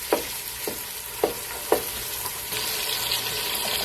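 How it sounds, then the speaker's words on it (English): Ground meat for a Greek pastitsio sizzles in a hot pan, with four distinct scraping knocks of a spoon breaking it apart over a constant close frying hiss that grows brighter toward the end. "So we're going to saute the meat for about 10 minutes"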